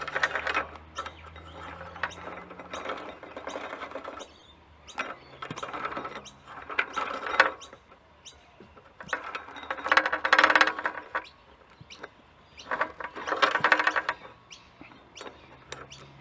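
A new chain being threaded onto the sprocket of a 1981 Honda CT110 trail motorcycle, producing bursts of soft metallic clicking and ratcheting close up, separated by quiet pauses.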